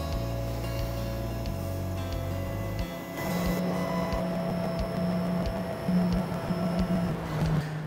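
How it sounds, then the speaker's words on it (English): Desktop CNC router, KX:24, homing its Z, X and Y axes: tonal stepper motor whines shifting pitch between moves, with mechanical clicks as each axis reaches its limit. "Once the machine has completed the home procedure, it now knows its travel limits in all three of the axes."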